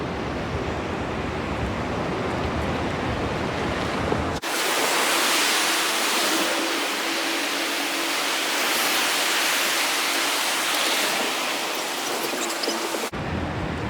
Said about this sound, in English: The waves come so far up that they splash over these rocks and onto the strand here.